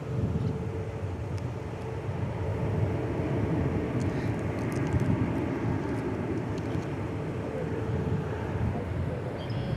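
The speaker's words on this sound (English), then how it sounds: "Looks like American 201 is landing on runway 13 right." An airliner landing on runway 13 right at Dallas Fort Worth airport, a steady broad jet roar heard from a distance, holding without a break throughout.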